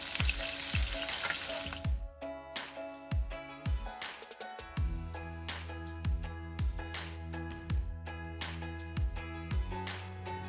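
Salmon fillets for teriyaki sizzle face down in a hot pan in a Jamaican home kitchen, with a loud burst of frying at the start before rhythmic background music with a steady beat takes over.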